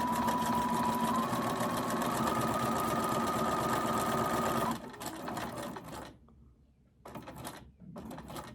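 A sewing machine stitches a zigzag while making tags for a junk journal, whirring loudly and steadily for a few seconds before stopping, followed by softer clicks and handling noises.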